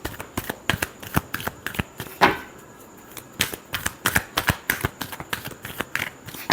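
Tarot cards are shuffled in quick, crisp bursts of riffling and flicking, near and fairly quiet, with a short pause in the middle before the rapid card slaps resume.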